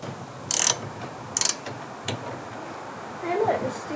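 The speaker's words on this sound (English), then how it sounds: "Hey look, the steering's turning." Steering linkage on a Kawasaki KLF300 4x4 ATV turning, giving a few short metallic ratcheting clicks and creaks close by, with a person talking quietly in the background.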